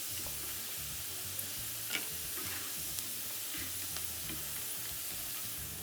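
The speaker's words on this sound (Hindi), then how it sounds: "यहाँ पे हमारे जो हैश ब्राउन है, फ़िश फिंगर्स हैं और चिप्स हैं वो फ्राई हो चुके हैं।" Hash browns, fish fingers and chips fry in oil with a steady, soft sizzle and a few faint ticks and pops throughout, heard alone without talk.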